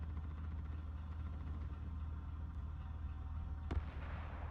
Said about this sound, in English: Couldn't work out where the fireworks is coming from.